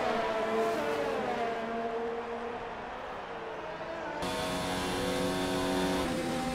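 Formula 1 cars race around the Abu Dhabi circuit in the F1 2019 video game, a high, whining engine note climbing and dropping through gear shifts, loud and continuous up close.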